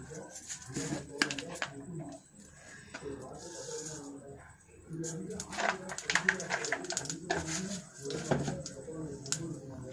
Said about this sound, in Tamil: கடுகு கொஞ்சம் பொரிஞ்ச உடனே வெங்காயம் போடணும்.